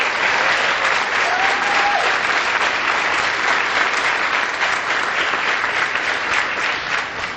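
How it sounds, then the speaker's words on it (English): At a junior police academy graduation, a crowd gives a sustained, loud round of applause for the college interns, a dense, even wash of clapping that holds steady throughout with a brief whistle early on. "Can we give them a round of applause?"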